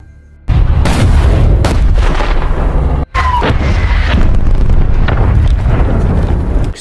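Long-range artillery in a war film pounds enemy positions with loud, rumbling blasts that run together into a continuous roar, broken by a brief gap midway.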